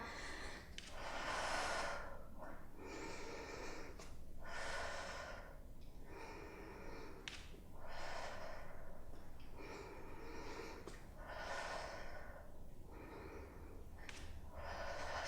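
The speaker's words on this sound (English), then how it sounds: "I'm exhaling every time I extend my leg" Steady, audible exhales repeat about every one and a half to two seconds as a person does Pilates barre leg extensions. The breathing is close and fairly quiet, with no talking.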